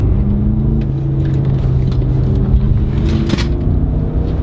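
A Skoda Kodiaq vRS SUV from 2019 drives on a road, giving a steady close engine and road rumble with a faint rise in revs and no talk.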